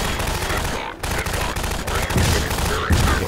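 Dense automatic gunfire in Half-Life 2: Episode 2, loud and continuous with repeated sharp bursts through the whole stretch, a few heavier thumps near the end, and no talking over it.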